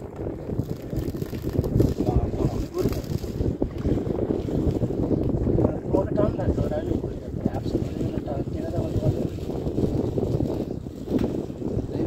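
A boat moves on open water through steady wind, with a rumbling, gusty wash of wind noise against the microphone and water churning beneath it, and voices talking over it at times.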